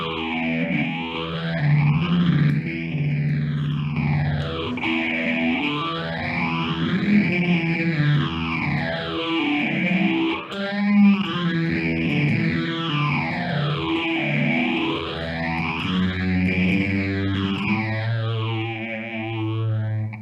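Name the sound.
electric guitar through chorus effect pedal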